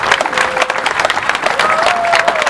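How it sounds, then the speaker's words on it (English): Crowd applause at a Volunteers Day commemorative parade in Tyrone, a broad wash of clapping and some cheering outdoors, with faint tonal sounds drifting through. "a big round of applause for the Loch Macrory St."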